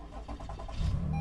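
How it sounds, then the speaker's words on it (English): Engine of a 2017 Toyota Highlander turning over and catching, a short cranking flutter giving way to a steady, louder idle rumble close by, with no voices. "simply turn the engine on"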